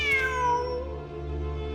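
A cat in Genshin Impact lets out a single clear, drawn-out meow with a falling pitch, close and alone over a quiet game background hum.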